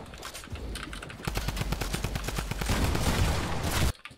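Rapid automatic gunfire rattles in Fortnite, with bursts of shots building into dense, continuous fire that cuts off abruptly, loud and close with no talk over it.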